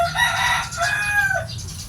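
A rooster crows close by in one drawn-out call, mixed with clucking from chickens.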